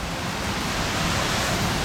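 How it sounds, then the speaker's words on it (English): A waterfall roars as a steady, dense rush of falling water, close and unbroken, with no voices. "There's the waterfall."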